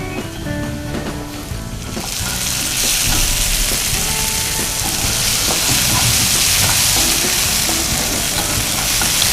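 Mushrooms and tomatoes frying in a pan, a loud hissing sizzle that swells after a quieter start and stays steady to the end, with faint stirring and no talk.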